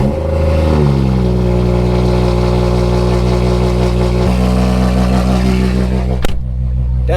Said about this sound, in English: I haven't started this car all day, so this is a cold start.